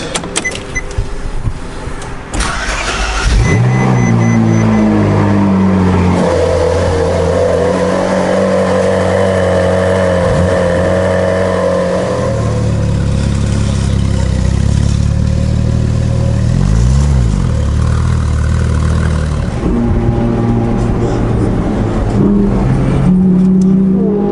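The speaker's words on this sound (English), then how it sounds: "Alright, let's do a cold start." A rebuilt, previously wrecked Ferrari 458 engine cold-starts with a sharp crank and loud flare, then settles into a high, steady, rumbling idle that surges and shifts in pitch, close by.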